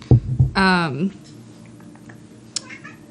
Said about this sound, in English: We have a new kitten running everywhere.